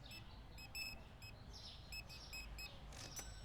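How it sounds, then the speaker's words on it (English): Notification beeps for a mobile order in a video game: a series of short, high electronic bleeps in quick clusters, faint over a steady low background hum. "I keep hearing beeps. Oh, it's an order. The little mobile order is coming in."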